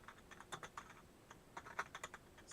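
Quiet, quick typing on a computer keyboard, with irregular bursts of key clicks close by and no voices.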